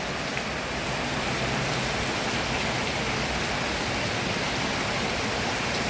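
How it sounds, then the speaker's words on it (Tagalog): Heavy monsoon rain pours in a dense, constant hiss, close and unbroken throughout, with no voices. "Wala nang tigil ang ulan hanggang ngayon."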